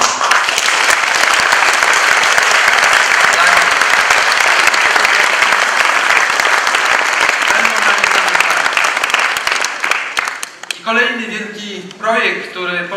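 Audience at a political party convention in Warsaw breaks into loud, sustained applause for about ten seconds before it fades out and a speaker's voice takes over near the end.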